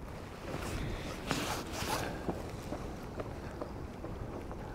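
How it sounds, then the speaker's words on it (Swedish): Wind blows across a lake around a boat during perch fishing, a soft, continuous breathy rush with gentle swells and a few faint clicks and knocks, quiet and without talk. "Blåser det på här."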